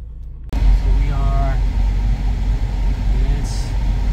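A car drives along with its air conditioning on maximum during a forward sensor recalibration, producing a steady close engine and road rumble with a constant blowing hiss. A voice is briefly heard.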